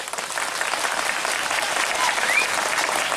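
An audience at a live stage comedy and acting show breaks into loud, sustained applause, a dense wash of clapping that holds steady throughout.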